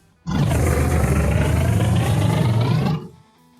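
A man imitates the roar of a Hodag, a legendary creature, by screaming the word in one long, loud, sustained roaring shout of about three seconds, close to the microphone.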